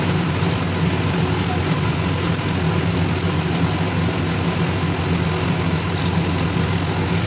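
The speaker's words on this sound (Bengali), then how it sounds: "এবার এক এক করে আমি এগুলোকে তেলে ছাড়বো।" Coated chicken cheese balls fry in hot oil, making a loud, dense, continuous sizzle that sounds like heavy rain and stays steady throughout without voices.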